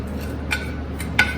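Paneer, rice and vegetables being mixed for a sizzler: a few light, sharp clinks of a utensil against a dish, spaced apart, close and fairly quiet over a faint background.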